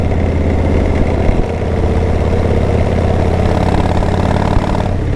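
A chopper motorcycle engine idling steadily and loudly close by, a deep, even rumble with no revving and no voices.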